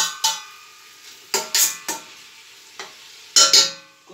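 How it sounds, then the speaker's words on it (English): Lamb and onion fry in a pan over high heat, a soft steady sizzle broken by several sharp scraping stirs of a utensil against the pan, close and without talk. "The lamb is getting nice and brown. So they put you a bit on high heat at the beginning"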